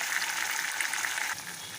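Onion, garlic and curry leaves fry in hot oil, a brief, steady sizzle at moderate level that drops slightly toward the end, with no voices.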